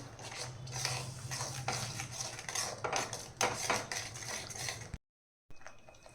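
A spoon scrapes and clatters in a pan while egg curry masala is stirred with a little added water, steady close metallic scraping that breaks off briefly near the end.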